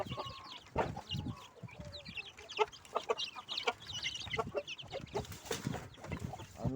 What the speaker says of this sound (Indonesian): kita lanjut ke ayam-ayam yang sudah 1 bulan lebih umurnya